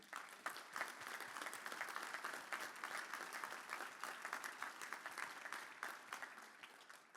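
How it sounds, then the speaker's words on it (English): An audience at a town hall meeting claps steadily throughout, a dense patter of many hands with no one speaking. "join me in a round of applause for them being here tonight"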